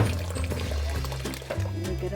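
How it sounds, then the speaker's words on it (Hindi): Hot water is poured into roasted besan (gram flour) while making kadhi, a continuous close pouring and filling sound blended with a voice in the background. "अब मैं पानी और डालने लगी हूँ।"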